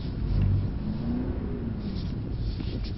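A Mercedes C63 S engine revs hard under acceleration with a deep, rumbling growl heard from inside the car, its pitch rising and then easing, and no voices over it.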